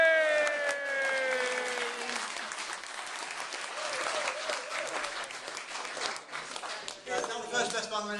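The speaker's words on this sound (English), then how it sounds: "deserve the applause" Wedding guests applaud through a best men's speech reception, a steady, fairly close wash of clapping lasting several seconds, with some voices and whoops mixed in.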